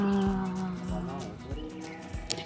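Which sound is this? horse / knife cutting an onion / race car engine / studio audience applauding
horse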